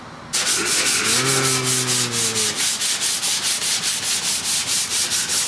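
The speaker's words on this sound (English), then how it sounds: "now it's time to what? Sand it down, right? Yeah, we're gonna scuff it" A car fender is sanded by hand to scuff it before sealer and paint, with steady rhythmic back-and-forth strokes close up and a brief tonal whine near the start.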